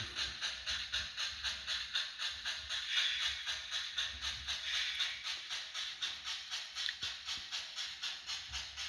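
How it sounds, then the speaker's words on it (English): The Chili Line inspection train hauled by steam locomotive 347 through a canyon, heard from on board as a faint rhythmic chuffing and clatter with steady hiss, repeating evenly throughout without any voices. "Today's train is pulled by 347."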